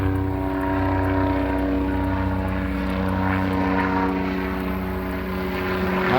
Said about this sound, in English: Helicopter flying over us.